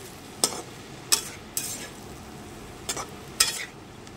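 Cut pieces of bread being stirred in a frying pan, five distinct scraping strokes at uneven intervals over a faint background sizzle.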